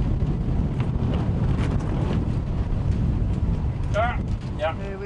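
Wind gusting around a sailboat at sea off Marmaris, Turkey, a constant broad roar of rushing air buffeting the microphone, with a person talking briefly near the end.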